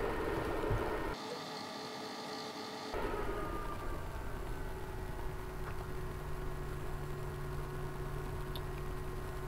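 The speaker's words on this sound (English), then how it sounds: "you can hear the fans have spooled down" EcoFlow Delta 2 Max LiFePO4 power station fans turning more slowly at half charge speed, a lower steady hum with a faint tonal whine, close and continuous, with no talk.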